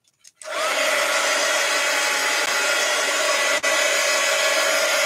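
A heat tool switches on with a click and blows a loud, steady whirring roar while drying an artist trading card, running continuously nearby with a brief dip near the end.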